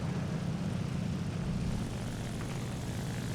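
A propeller fighter plane in a combat flight game drones continuously, a loud steady engine roar with a low throbbing rumble that holds unchanged throughout, with no talk over it.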